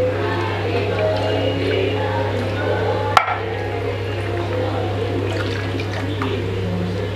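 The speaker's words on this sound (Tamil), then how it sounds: "அவ்வளோதான், ஜார கழுவியாச்சு." Water sloshes and runs steadily while a mixer jar is rinsed in a kitchen, with a low hum underneath and one sharp knock partway through.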